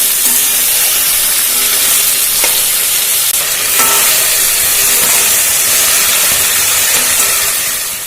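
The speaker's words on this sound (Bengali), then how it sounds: "আলুটাকে একটু হালকা করে ভেজে নেওয়া হচ্ছে।" Potatoes lightly frying in oil for a tomato potato curry make a continuous loud, close sizzle and hiss with no talk, holding steady before easing slightly at the end.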